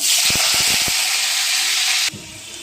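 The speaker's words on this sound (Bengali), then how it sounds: "তো তেলটা আমার হয়ে গেছে, এর মধ্যে আমি আলুটা ভাজবো" Potatoes frying in hot oil in a pan, a loud, broad, steady hiss with a few quick clatters early on, then the sizzle drops sharply near the end, close up and with no talk.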